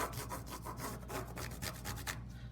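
A crayon rubbing across paper laid over a bumpy textured material, giving a steady, close, scratchy rasp with quick back-and-forth strokes and no talking.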